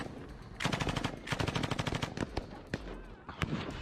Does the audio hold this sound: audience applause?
no